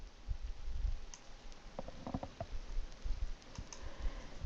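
Computer mouse clicking in a quiet room, a few sharp, close clicks scattered through a short stretch, some in quick pairs, over faint background hum.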